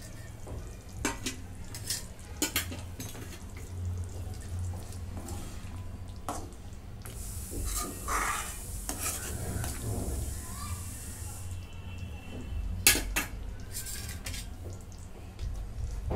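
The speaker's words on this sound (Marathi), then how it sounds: "आता ह्याच्यामध्ये हे तळलेलं पनीर टाकून घेते." Fried paneer tipped into a simmering masala gravy in a pan and stirred, with a soft sizzle under repeated scraping and clinking of the utensil against the pan, plus a few sharper knocks.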